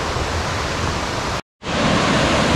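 A waterfall in a rocky Seoraksan mountain valley gives a loud, steady rushing roar that is broken once by a brief moment of silence.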